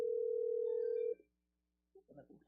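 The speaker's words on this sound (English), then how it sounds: "Shh, I'm calling my caller." A steady telephone tone sounds while a call is being placed, holding for about a second before cutting off; after a short silence, a few muffled voice-like sounds follow faintly.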